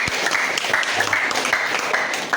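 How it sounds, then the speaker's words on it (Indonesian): A small crowd at a PGRI teachers' branch meeting and election claps after a vote count, making a brisk, fairly close patter of scattered hand claps. "Yang boleh tepuk tangan."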